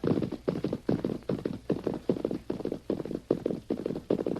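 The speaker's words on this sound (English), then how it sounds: "Now, you ride ahead and ask if we can water our horses." Horse hooves clip-clop in a steady, even rhythm of about two beats per second, close and clear throughout with no voices over them.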